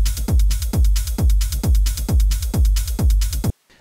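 Techno loop with a deep sidechained kick pumping four to the floor and hi-hats ducking between beats, loud and steady for about three and a half seconds before stopping abruptly.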